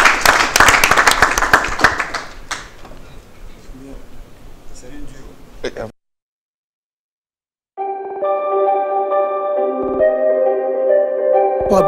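Audience clapping and cheering on a television variety show as a performer comes on stage, loud at first and fading out, followed by a short silence and then tonal music.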